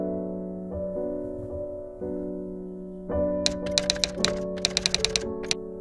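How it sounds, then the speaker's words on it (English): Typewriter sound effect for a PowerPoint 2016 typewriter animation: steady tonal background at first, then a quick run of crisp mechanical key clacks and taps, fairly close and loud, with no voices. "listen to the typewriter sound again and again"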